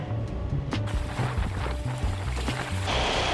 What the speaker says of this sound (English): a tug towing a barge coming through, which is just adding to it